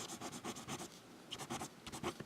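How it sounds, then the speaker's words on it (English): A fountain pen with a Duckbill Gothic nib scratches softly across paper in close, rhythmic strokes, a quiet rustling pattern with brief pauses between strokes. "it writes just fine. It's a nice nib"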